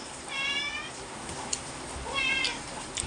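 A cat meows twice, drawn-out cries separated by a pause, close by over a steady background hiss.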